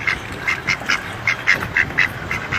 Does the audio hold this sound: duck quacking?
yes